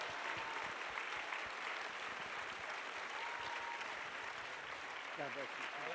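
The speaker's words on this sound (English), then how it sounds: "Let's give them a round of applause." Sustained audience applause fills a conservative political summit hall, dense steady clapping from a large crowd throughout, with a few voices emerging faintly near the end.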